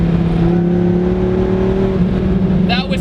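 A 2001 Dodge Viper ACR engine pulls hard in third gear at low revs, a loud, deep, steady drone heard from inside the car that rises slightly and then eases off near the end.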